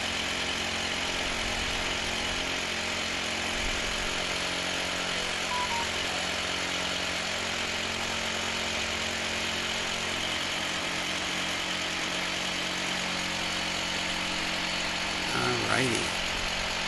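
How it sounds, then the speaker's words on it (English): A rock drill bores holes into stone to install a wood-burning chimney, a steady loud mechanical roar with a constant engine drone running throughout, close by and continuous. "I just keep drilling holes"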